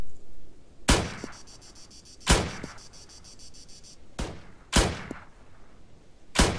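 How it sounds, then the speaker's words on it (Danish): Ruger .22 carbine rifle firing five sharp, separate cracks spaced a second or more apart, each with a short tail, over a steady background of chirping crickets. "Var det dig, der lige skød?"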